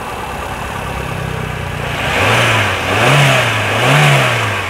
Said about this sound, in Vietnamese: Và đây máy đang nổ đây quý anh chị các bạn này.